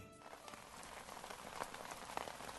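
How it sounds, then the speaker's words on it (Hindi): Steady rain patters on a surface, a dense, even hiss of drops with no voices. "बारिश थमने का नाम नहीं ले रही थी"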